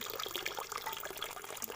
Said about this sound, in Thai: กบก็จะพ่นน้ำออกมาแบบนี้เป็นน้ำตกเลย